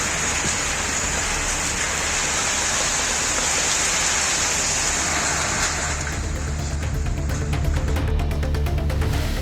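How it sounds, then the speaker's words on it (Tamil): Heavy night rain pours over Chennai in a dense, continuous roar that stays steady and loud throughout. "சென்னையில் 2வது நாளாக இரவில் கொட்டி தீர்த்த மழையால் பூமி குளிர்ந்தது."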